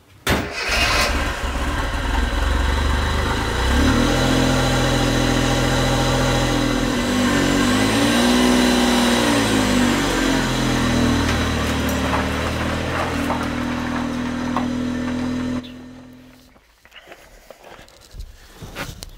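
Suzuki Cappuccino, a small car restored after flood damage and fitted with new tyres, with its engine droning loud and close as it drives along a road. The engine note holds steady, then drops away sharply near the end.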